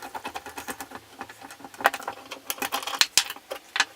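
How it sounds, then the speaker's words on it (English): Metal bearing puller working a pulley off the shaft of a 1985 table saw, giving a run of close, irregular clicks, taps and scraping metallic knocks, with a few sharper clanks near the end and no talk. "So I use a bearing puller, which works quite easily."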